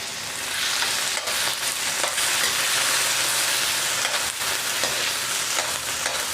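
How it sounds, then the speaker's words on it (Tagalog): Hot oil splatters and sizzles loudly and steadily in a pan while corned beef fries with white onion and garlic, crackling close up with small pops throughout. "Tumatalsik-talsik yung aking mantika. Ayan, susunod na natin yung ating corned beef."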